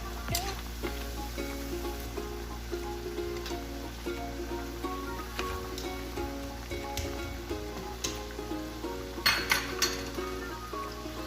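Coconut bread hearts frying in oil on low heat, a steady soft sizzle with occasional clinks of a utensil against the pan, close and continuous with no voices.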